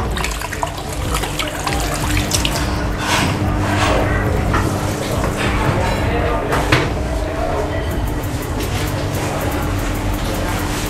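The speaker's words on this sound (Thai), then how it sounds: "นี่ครับผมเขาก็ล้างมือก่อนครับ" Water running from a tap as hands are washed at a sink in a restaurant in Phu Ruea, Loei, a steady loud splashing rush that lasts throughout, with someone talking over it.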